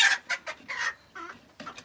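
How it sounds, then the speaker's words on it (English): A pet chicken clucks close by in short, separate bursts, five or six sharp clucks with brief pauses between them and no talking. "So you got a chicken."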